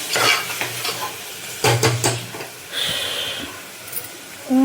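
Ingredients for mutton head curry are sautéed in a pan, with stirring scrapes, spoon clatter against the vessel and an uneven sizzle between them, in bursts close to the microphone; no one speaks.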